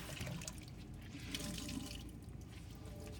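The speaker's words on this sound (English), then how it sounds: "So you're gonna wet it, hot soapy water, or well, hot water first." Hot water runs steadily from a tap to wet a cleaning rag, a continuous splashing hiss close by with no talk.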